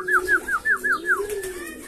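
A pigeon coos at close range, a rhythmic run of six quick repeated notes followed by a longer steady tone, clear against a quiet background.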